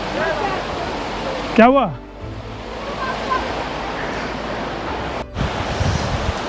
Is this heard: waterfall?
yes